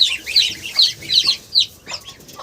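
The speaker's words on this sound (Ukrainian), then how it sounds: "Диви, як кричать, ти чуєш, як кричать?" Chickens in a farmyard cluck and squawk loudly and close by in a rapid run of overlapping calls, with no talking.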